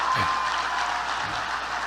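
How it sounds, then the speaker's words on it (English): Brief, dense applause from a standing crowd at a North Carolina Republican political rally fills the room evenly for under two seconds, with no voices standing out. "He gets a standing ovation."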